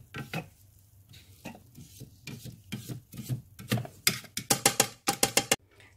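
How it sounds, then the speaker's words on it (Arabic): A Thermomix lid is opened and a spatula pushes chopped onion down inside the bowl, giving a series of scraping, knocking strokes that grow quicker and sharper toward the end, heard close up without talk. "كنفتحو بهاد لاسباتول ديالو، غادي نحاول نهبط هاد البصله"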